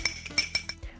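Egg beaten with a drop of milk for glazing bread, a fork or whisk clinking rapidly against a glass bowl in a quick, close rhythmic series.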